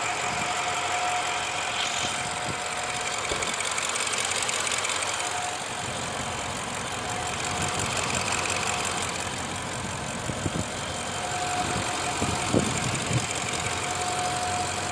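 A 2017 BMW 650i Gran Coupe twin-turbo V8 idles with the hood open, giving a steady, even engine hum with a faint whine that holds throughout.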